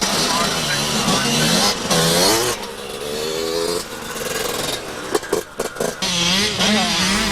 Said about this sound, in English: A dry, sandy test, ridden 4 times each day for the championship riders